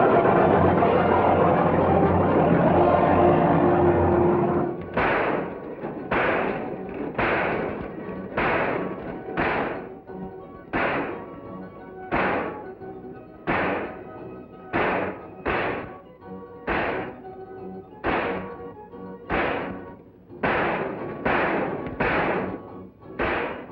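Aerial gunnery with tracer bullets: a dense roar gives way to a long series of sharp, heavy gun bursts, each followed by a short decaying echo, spaced roughly a second apart, loud and close.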